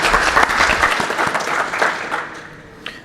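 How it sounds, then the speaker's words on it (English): A conference audience applauds the presenters at a hacker event, a dense burst of clapping from a room of people that fades out after about two and a half seconds. "Give them a warm round of applause"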